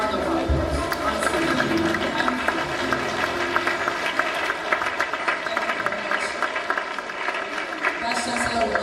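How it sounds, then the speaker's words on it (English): Audience applause fills a hall at a university inaugural lecture on mental health, a dense, steady clapping with crowd murmur that lasts throughout. "please can we just stand up and give him a round of applause?"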